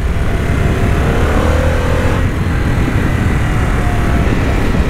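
A 2024 Harley-Davidson Sportster S cruiser being ridden, its engine giving a loud, continuous droning roar under heavy wind rush, the pitch shifting slightly as it revs, no talking.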